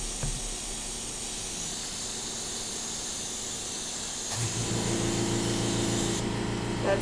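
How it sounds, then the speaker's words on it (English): A continuous airy hiss and hum of a small airbrush compressor running, steady and close, with a brief shift in tone partway through. "That's the sound of a compressor."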